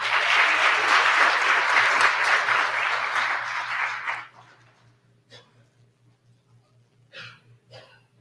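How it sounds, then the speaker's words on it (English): Audience applause for honors program students at a college honors ceremony, loud and sustained for about four seconds before tapering off, followed by faint scattered claps and sounds in a quiet hall. "and for that, they deserve an applause."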